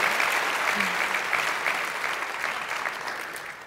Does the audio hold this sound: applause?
yes